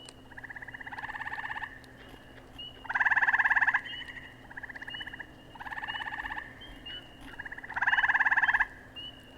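Frogs croaking in loud pulsed bursts, four or five rhythmic trilling calls spaced a second or two apart, close by over a quiet steady background hum.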